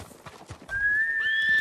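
A horse close by walks with soft, uneven hoof clops, then a long high whistling tone, like a whinny, sounds over steady breathy noise.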